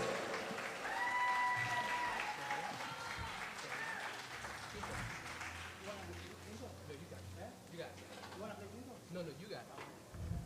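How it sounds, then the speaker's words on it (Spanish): An audience at a Hispanic Heritage Month music celebration in a New Orleans jazz museum applauds the dancers with sustained clapping and some cheering, while a voice speaks over the start and instruments come in toward the end. "Un gran aplauso para los bailadores."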